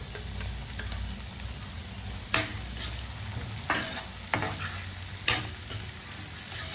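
Prawns frying in a pan with bitter gourd, a constant close sizzle broken by four or five sharp stirring scrapes spaced about a second apart, with no voices.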